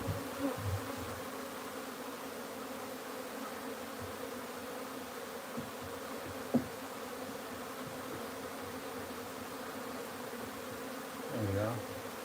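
Wild honey bees buzz steadily around frames of comb and honey during a transfer into a new hive, a dense, continuous drone with a few louder passes near the end.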